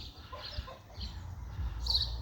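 Farmyard chicken clucking softly nearby with a young goose chick, a few brief calls over low rumbling background noise.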